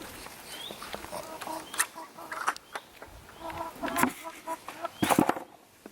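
A pair of farmyard chickens, parents of a young chick, cluck and call close by in short irregular bursts, some sharper squawks rising above the steady background.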